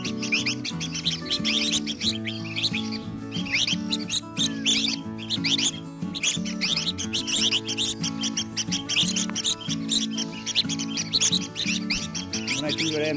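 Caged red-whiskered bulbuls chirp and warble in quick, bright bursts again and again, close and fairly loud, over a faint low hum.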